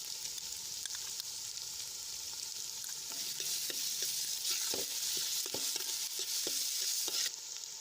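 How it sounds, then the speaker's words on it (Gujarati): Onions sauté in a pan with green garlic and ginger-garlic-chilli paste, a continuous close sizzle broken by occasional scraping stir clicks, with no voices. "ડુંગળી આછા ગુલાબી રંગની થાય ત્યાં સુધી આપણે સંતળાવા દઈશું"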